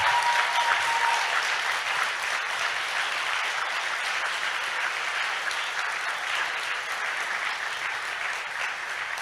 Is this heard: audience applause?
yes